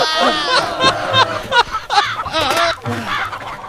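Busy, excited clucking and squawking from chickens, loud and close, with rapid overlapping calls throughout.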